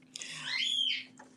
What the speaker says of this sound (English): I do have a cockatiel that's chirping back there